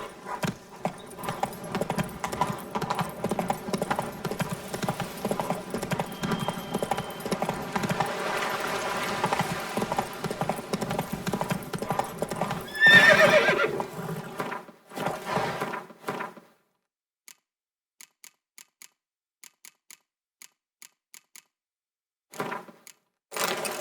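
Geralt's horse Roach clip-clops along in The Witcher 3: Blood and Wine, a steady run of hoofbeats over game music and ambience for about fifteen seconds, then a few sparse taps in near silence.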